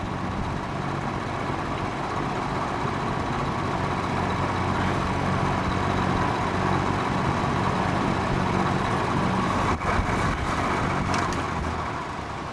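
A vintage Penncrest Lakewood box fan runs with a steady, loud whooshing drone and a slight rattle, with a few brief knocks near the end.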